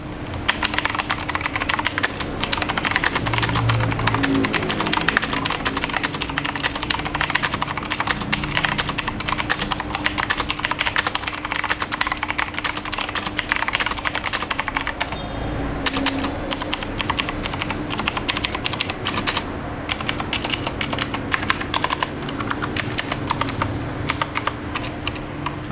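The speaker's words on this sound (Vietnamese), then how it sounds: "Bây giờ mình sẽ cùng gõ chiếc bàn phím Geezer GS2 RGB này nhé" A Geezer GS2 RGB mechanical keyboard with clicky switches is typed on continuously, keystrokes close and crisp in a rapid stream, with a brief slowdown partway through and no voices.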